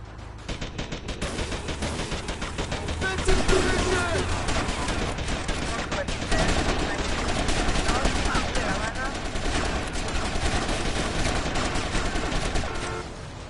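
Rapid bursts of automatic gunfire and shots crackle continuously through a chaotic firefight in GTA Vice City, loud and dense with layered impacts.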